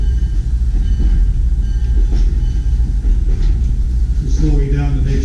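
A New Hope Ivyland Railroad train rumbles steadily toward the Aquitong Road crossing, a heavy continuous low roar with a horn-like tone rising near the end, loud and close from on board.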